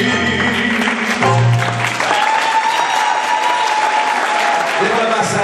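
Audience applause breaks out as the final notes of a live tango performance by dancers Aníbal Castro and Deborah Mazza fade. Loud, close clapping fills the room with a lingering tone underneath.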